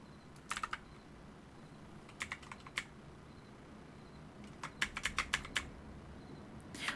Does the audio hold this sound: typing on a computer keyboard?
yes